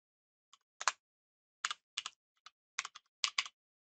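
Clicky keystrokes on a computer keyboard while code is typed: short bursts of a few quick taps with pauses between them, close and fairly quiet in an otherwise silent room.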